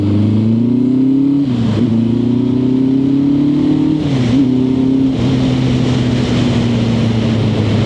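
Classic motorcycle, a BMW R65 or Suzuki Katana, on a test ride: a steady mid-pitched engine drone runs throughout, dipping and rising with gear changes at about 1.7 and 4.3 seconds, loud and close with no talk.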